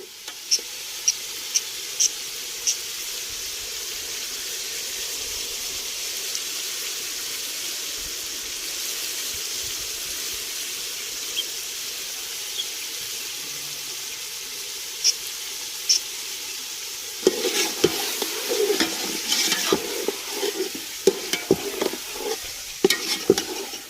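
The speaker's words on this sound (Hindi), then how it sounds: "चिकन को इसके साथ अच्छी तरीके से फ्राई कर लेना है।" Chicken fries with tomatoes in a pot for aloo chicken curry, a loud steady sizzle throughout, broken by occasional spoon taps and then busier stirring and scraping toward the end.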